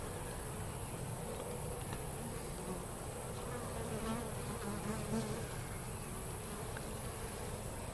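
Honeybees in a swarm drone around a top bar hive, a dense and continuous buzz from many insects that holds steady and close throughout, with no talking.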